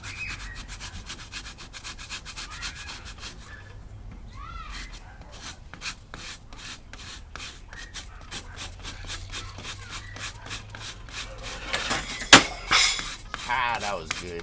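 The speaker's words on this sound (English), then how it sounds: "the cheese grater, it's actually doing its job. It's making fluff." Firewood from a collapsed barn being scraped into fluff on a cheese grater, with repeated rhythmic rasping strokes close by, a few knocks and handling sounds, and a voice speaking briefly amid the scraping.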